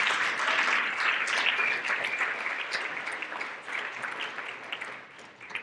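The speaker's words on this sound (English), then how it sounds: "he owes a big round of applause for doing that" At a shad derby coronation, a crowd gives a long-serving auditor a warm round of applause, dense steady clapping that gradually thins and fades toward the end.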